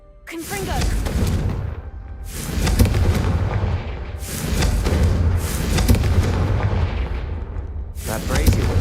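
Confringo blasting-spell explosions in the Hogwarts Legacy video game: a series of loud, booming blasts, each followed by a rumbling fiery decay, repeating about four times in quick succession with little pause between them.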